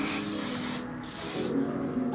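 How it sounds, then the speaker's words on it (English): One Size setting spray misted from a pump bottle in a makeup routine, two close, steady hissing bursts in quick succession with a brief gap between them. "for setting spray, we're going to go in with our trusty one size setting spray"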